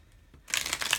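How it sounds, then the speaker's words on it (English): Exploding Kittens cards being shuffled by hand, a soft burst of rapid riffling papery clicks starting after a quiet pause and continuing close and steady to the end. "And I shuffle them in so that it's still random."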